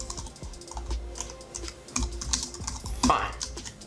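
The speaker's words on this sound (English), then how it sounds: "you guys can see now I can start typing up with this iPad and it works" Keys clatter on a wireless keyboard paired with an iPad, a quick, uneven run of close, crisp taps and clicks with a louder thump near the end.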